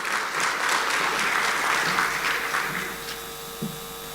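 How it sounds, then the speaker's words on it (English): Audience at the Gastronomy Academy of Jamaica launch giving a round of applause to Dr. Kerry Wallace, a steady, broad crowd clapping that tapers off near the end. "A round of applause for Dr. Kerry Wallace."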